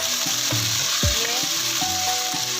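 Chicken frying in oil with red chili powder, turmeric and salt added, giving a steady close sizzle with a sharp burst as the spices hit the pan and a few spoon scrapes.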